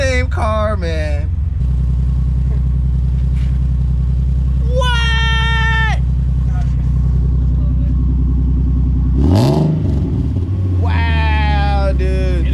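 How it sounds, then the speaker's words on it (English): A drift car engine idles through a new exhaust with a deep, even drone, rising in a couple of revs, while people talk and exclaim over it. "the exhaust was a huge success, obviously. You know, it's 10 times quieter and sounds 10 times better."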